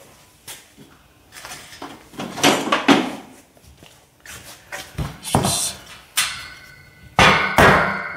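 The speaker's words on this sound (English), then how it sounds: "I grab the big hammer." Heavy hammer blows strike sheet metal on a car's fenders and hood during bodywork, landing as a series of loud, sharp, irregular clangs separated by brief pauses and small knocks.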